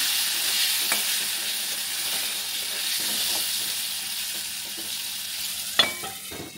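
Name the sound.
potatoes frying in mustard oil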